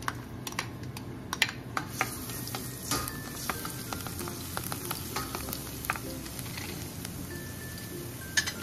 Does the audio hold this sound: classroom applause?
no